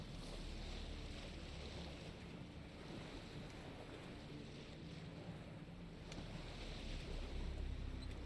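Sailing a boat across the sea in Witcher 3: Wild Hunt around Skellige, with a steady wash of waves and wind rushing past, continuous and fairly loud with no talking.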